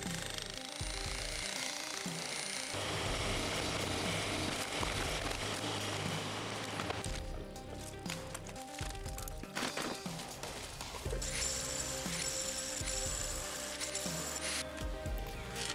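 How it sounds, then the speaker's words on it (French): A jackhammer breaks up a concrete slab around a house while a drainage trench is dug, a dense continuous rattling roar that pauses briefly around the middle before resuming. "on a fait doucement avec le marteau-piqueur"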